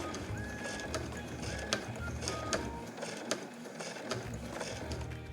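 Sewing machine slowly stitching a curved seam on a handmade body bag, giving a steady mechanical whir with rhythmic clicks and ticks throughout.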